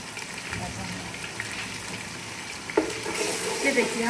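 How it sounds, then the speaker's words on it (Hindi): Garlic and ginger frying in a pan, giving a steady soft sizzle with occasional stirring scrapes and a louder crackle near the end, under a voice speaking. "अब हम इसको फ्राई करेंगे और इसका एक गोल्डन सा कलर आने देंगे।"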